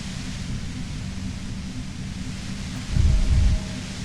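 Dense, loud white noise roars steadily near a compressor, like a broad hiss, with a brief heavier rumble swelling near the end.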